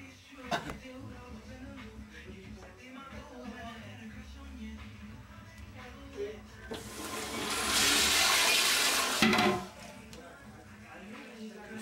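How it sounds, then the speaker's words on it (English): A toilet flushes with a loud rushing surge of water that lasts a couple of seconds and then cuts off, preceded by someone talking and general room noise. "Flush the toilet."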